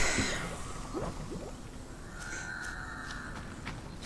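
Crows caw in the video game Crime Scene Cleaner, a few rough calls at a distance over steady ambient noise, with faint knocking and a brief tonal hum.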